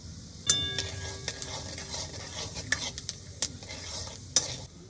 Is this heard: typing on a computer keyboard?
no